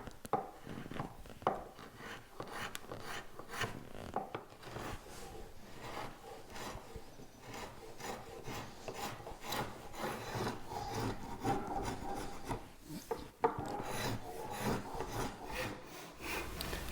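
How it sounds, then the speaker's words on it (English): Scratch stock beader scraping a profile into a wood molding by hand, a close, steady run of rhythmic rasping strokes repeating back and forth, with no talking. "After I finished scratching in the moldings"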